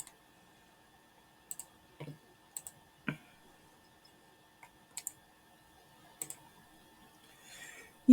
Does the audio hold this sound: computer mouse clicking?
yes